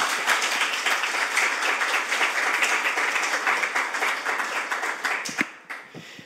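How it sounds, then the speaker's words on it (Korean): Warm, sustained applause from the audience at a Korean National Assembly press briefing on a 2025 audit issues report, dense clapping from many hands that holds steady for about five seconds and then fades out. "여러분 모두 큰 박수 부탁드립니다."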